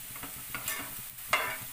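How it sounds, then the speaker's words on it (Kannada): Onion frying in a pan gives a steady low sizzle, with soft stirring scrapes recurring throughout and no talking. "ಇದು ಆನಿಯನ್, ಇದನ್ನು ನಾವು ಚಂದ ಮಾಡಿ ಫ್ರೈ ಮಾಡ್ಕೊಳ್ಬೇಕು"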